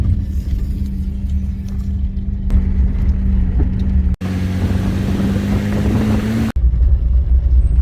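A car's steady engine drone and road rumble while driving to a gold-prospecting spot, constant and fairly loud, with two brief dropouts and no talk.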